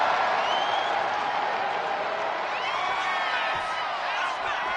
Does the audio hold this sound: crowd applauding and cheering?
yes